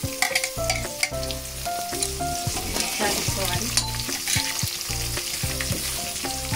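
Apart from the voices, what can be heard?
frying onion and chopped tomato pieces for uggani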